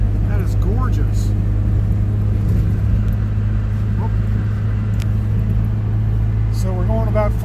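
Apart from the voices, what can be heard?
car driving on the road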